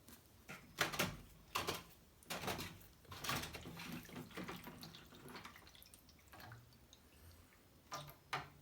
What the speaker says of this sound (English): lots of water coming out at the moment